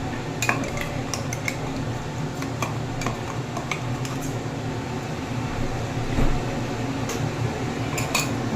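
Ilish fish being hand-mixed with a ground paste of mustard, poppy seed and peanuts, a steady close squelching and rubbing with occasional clinks of utensils, no voices.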